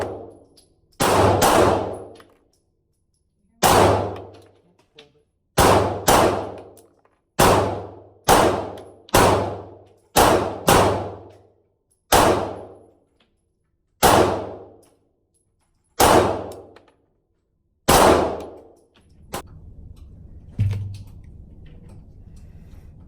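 A Stoeger STR9 pistol fires about a dozen separate shots, each followed by the sharp metallic ring of steel targets, spaced out with short pauses between and a few quick pairs.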